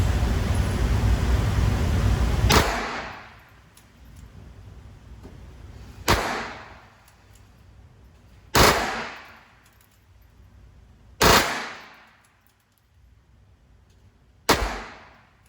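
A Taurus TX22 pistol fires Remington subsonic ammunition, giving five sharp, loud shots at uneven intervals. Each shot has a short echoing tail, with no talking between them.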